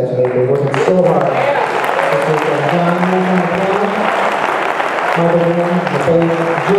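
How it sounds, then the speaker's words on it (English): Audience applause for a concert's rhythm section at a gala, a steady, loud wash of clapping that runs throughout, with sustained musical tones playing beneath it. "please another hand for this amazing rhythm section"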